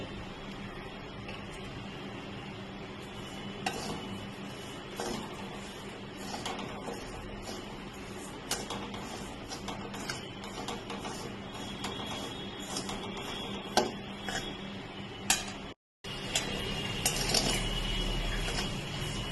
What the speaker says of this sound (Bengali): কড়াইটা গরম হয়ে গেছে আমি ডালিয়াটা একটু হালকা করে ভেজে নেব